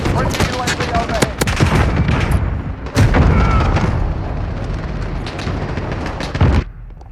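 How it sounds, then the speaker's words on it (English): Cruise missile strike in Call of Duty Modern Warfare Ground War mode: loud, close bursts of explosions and rapid gunfire, with dense crackling blasts and a heavy boom around the middle, then a quieter tail. "Enemy cruise missile incoming. Take cover."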